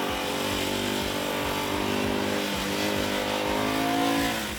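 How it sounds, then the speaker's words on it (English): A BSA Gold Star 650cc single-cylinder motorcycle engine revs hard, its loud, close exhaust note swelling steadily with strong thumping pulses throughout, with no voices over it. "The 650cc single is quite peppy and it loves to be revved hard."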